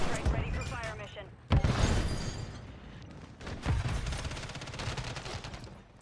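Repeated shotgun blasts in the game Modern Warfare Zombies, loud bursts at about 1.5 and 3.7 seconds over continuous game noise and layered gunfire, with a voice talking through it.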